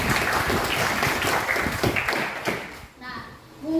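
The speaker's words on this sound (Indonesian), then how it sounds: "tepuk tangan dulu untuk mereka." Students in a classroom clap for their classmates, a loose, fairly close round of applause with individual hand slaps audible, fading out toward the end, with voices mixed in.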